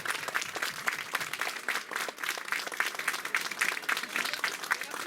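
A crowd claps steadily for volunteers at the prize ceremony of a 5 km road race in Seurre, a dense, even round of applause that carries through the whole stretch with no pauses.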